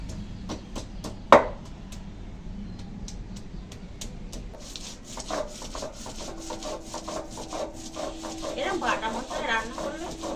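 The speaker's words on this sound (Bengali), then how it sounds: "জিরে আদা একসঙ্গে বেটে নেবো" Cumin and ginger ground together into a paste on a stone, heard as repeated scraping and rubbing strokes, fairly close, with a sharp knock early on and talk over the grinding.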